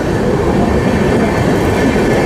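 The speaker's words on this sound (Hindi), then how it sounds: "काफ़ी अच्छा खासा एक्सेलरेशन, 70-80 की रफ्तार पकड़ चुकी है अभी से ही गाड़ी प्लेटफॉर्म एग्जिट करते ही।" A Jan Shatabdi Express train on the Raigarh–Gondia main line accelerates out of a station, a steady, loud rolling rumble with a broad rail roar and no voices.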